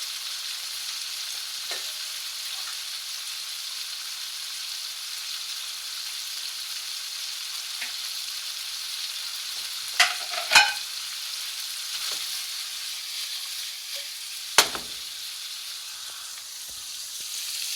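Costco oriental stir-fry vegetables, onions among them, hiss in a hot pan with a steady sizzle, broken by a few sharp clatters of stirring near the middle and end, with no voices.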